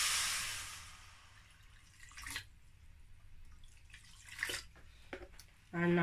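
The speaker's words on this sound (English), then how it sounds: "So now I'm going to add water inside my pan." Water pours into a cooking pan for okra soup with seafood, a steady splash that fades and is followed by a few faint drips and clinks, with quiet room noise.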